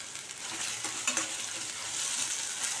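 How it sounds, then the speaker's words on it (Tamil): Ground coconut with cumin and green chilli is stirred into a frying mixture in a pan over medium heat, giving a soft, steady sizzle with light scraping strokes close by. "இப்போ இதை அடுப்பை மீடியமில் வச்சுட்டு இந்த தேங்காவை சேர்த்து ஒரு பெரட்டி விட்டுலாம்"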